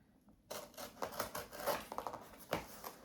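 Quiet, close crisp snipping and scraping sounds come in a loose rhythm as scissors cut open plastic packaging, after a brief silent start.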